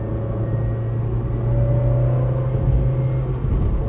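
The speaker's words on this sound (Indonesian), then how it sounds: "Tapi bedanya dia pakai soundtrack yang merdu, suara mesin VTEC-nya itu." A Honda Integra Type R with its VTEC engine accelerates, giving a steady, close engine drone whose pitch climbs slightly as the revs build.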